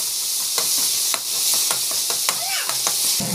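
Tomatoes sautéing in a pan with asafoetida: a steady broadband sizzle with repeated spatula scrapes and stirring clicks, close and continuous, no talking.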